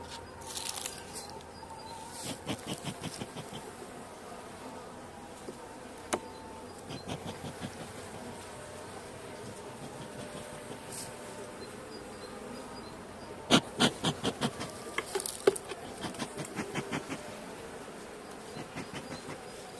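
Caucasian honey bees at a hive after winter, a continuous low hum with close individual bees buzzing past in short louder bursts, no talk.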